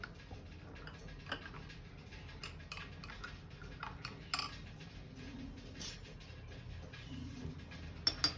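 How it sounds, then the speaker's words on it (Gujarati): A spoon stirs flavoring into sugar syrup, clinking lightly and irregularly against the vessel in small, close ticks, with a couple of sharper knocks near the end. "હવે આપણે ફ્લેવર એડ કરવાની છે અને સરસ રીતે મિક્સ કરી લેવાનું"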